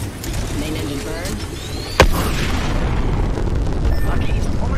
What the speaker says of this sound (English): We are go for burn. Hit the ejector seat. Faster, faster, faster! Main engine burn.